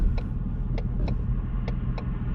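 Ford Mustang GT V8 running with exhaust valves open in track mode, a steady loud low rumble from inside the car, with a few faint periodic clicks over the drone.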